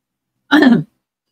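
One sharp cough, close and loud, lasts under half a second and is followed by silence.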